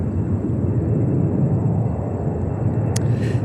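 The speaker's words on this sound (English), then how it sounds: "That's another Swiss flight with an Airbus A330-300 coming from Geneva in Switzerland." A Swiss Airbus A330-300 arriving at New York JFK from Geneva, a steady loud low rumble of jet engines with a faint high whine, ending in a brief sharp click.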